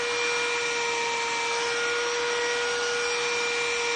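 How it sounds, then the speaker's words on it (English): A hair blower runs at a steady, loud whirring rush with a faint constant whine, unbroken for the whole stretch with no talking over it. "This new blower. Do you guys want to try my blower?"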